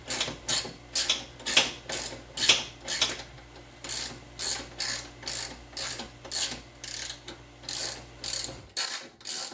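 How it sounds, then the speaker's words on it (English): A ratchet works a bolt on a 2007 Honda CR-V front lower control arm, making steady repeated strokes of sharp, close clicking in a regular rhythm for about nine seconds before stopping. "Hopefully I don't break the gear of my ratchet"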